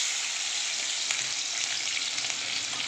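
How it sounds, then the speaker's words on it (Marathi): Garlic and green chillies sizzle in hot oil for okra bhaji, a continuous bright hiss at steady volume with a few faint crackles. "आता टाकते लसूण आणि हिरवी मिरची"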